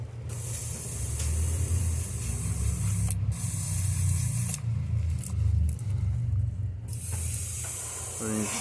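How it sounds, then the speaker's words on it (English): Close, steady airbrush hiss as thinned paint is test sprayed before painting a crankbait lure, running almost continuously with a couple of brief breaks, over a low compressor-like hum. "I'll test spray it."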